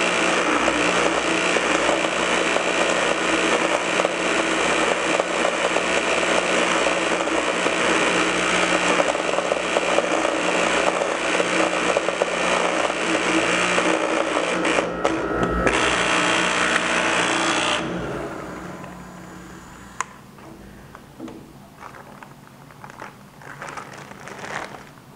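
An electro arc metal disintegrator runs loudly with a steady buzzing, crackling electrical hum for about eighteen seconds, then shuts down to a quiet tail with a few faint clicks.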